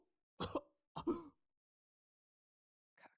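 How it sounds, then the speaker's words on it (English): A voiced character in a visual novel game coughs in a short fit: two harsh, close bursts in quick succession, a pause, then a faint third cough. "His coughing was a lot worse than before."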